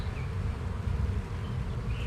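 A loud, unbroken buzz of honey bees fills the air around an opened spring split hive, close and continuous with no talk.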